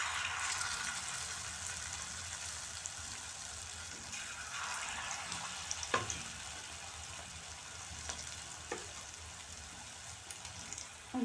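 Cabbage pakora sizzle and crackle steadily in hot oil, a soft continuous frying hiss with occasional spoon taps and clinks nearby.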